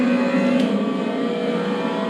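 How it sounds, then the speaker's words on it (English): Race car engines roar in a Le Mans racing video game, a steady dense drone with harmonic whine held loud throughout, as if several cars run close together. "These cars do sound really nice."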